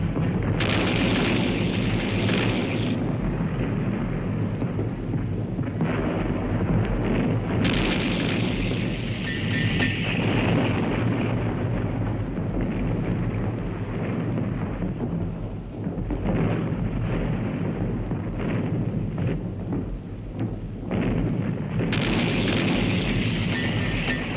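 A World War I artillery bombardment on Italian trenches in the mountains, heard as a dense, continuous roar of heavy booming explosions that rumble and overlap without pause for the whole stretch.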